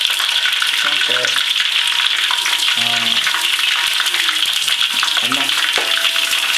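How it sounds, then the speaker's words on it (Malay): Fish fries in hot oil in a home kitchen, a loud, continuous bubbling sizzle throughout, with faint voices murmuring underneath. "Ikan yang siap goreng Cik Jahoy."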